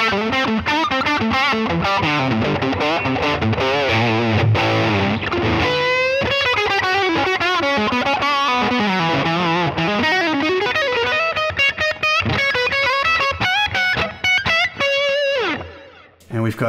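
Electric guitar lead tone played through a Line 6 Helix with delay switched on, loud distorted sustained notes and bends with repeating echo tails, continuous for most of the span before trailing off near the end.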